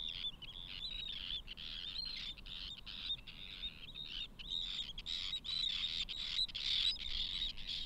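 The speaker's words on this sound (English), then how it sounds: "Any stranger who poses a threat will suffer the violent and tenacious attack of squadrons of terns until they turn around and flee." Squadrons of Arctic terns in Iceland call continuously in harsh, overlapping chirps while mobbing an intruder, a dense steady chorus at moderate distance with no speech.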